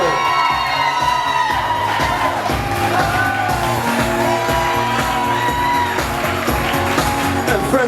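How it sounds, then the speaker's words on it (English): Wedding guests at a reception cheer, whoop and shout loudly in a dense crowd roar, with music and voices mixed in throughout. "That deserves another round of applause."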